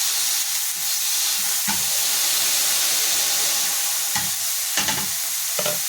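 An old frying pan of mushrooms sizzles loudly and steadily, a continuous crackling hiss with occasional sharper bursts as the food is stirred, close and with no talk.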